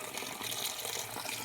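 Cold tap water running into a bowl of shrimp in a kitchen sink, a steady soft gushing splash that stays faint and continuous throughout.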